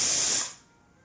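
A pressure cooker vents steam in one brief, loud hiss that fades out within about half a second, leaving near silence.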